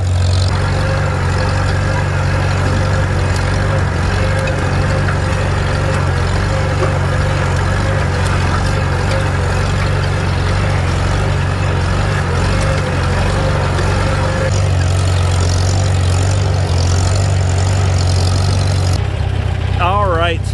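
A Farmall Super C tractor engine runs steadily in third gear during field work, a loud continuous low drone with a constant rumble throughout.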